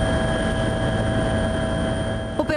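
Carabinieri helicopter flying overhead, a steady loud rotor and turbine drone with tonal whine throughout, ending in a brief burst of thumping near the close.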